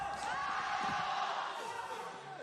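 Arena crowd at a VALORANT Champions playoff match in Seoul between SEN and EDG, a sustained dense roar of cheering and whooping that stays loud and steady throughout, with commentary-style voices faintly mixed in.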